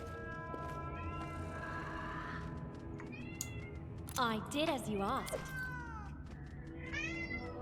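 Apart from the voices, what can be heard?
cat screaming at the door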